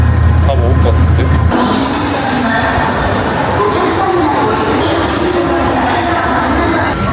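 A subway train rumbles through an underground station in Nagoya, a loud, steady roar of wheels and cars with station crowd noise, while a person talks over it.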